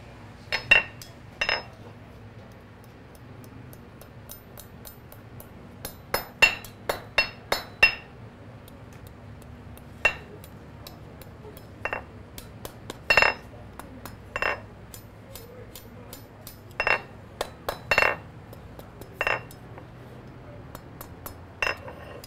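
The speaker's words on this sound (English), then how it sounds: "Just hammer it out to a nice taper and round it out." Metal ringing blows from a blacksmith hammering a scroll to a taper on an anvil, sharp clinks in irregular bursts and pairs with pauses between, fairly close and alone.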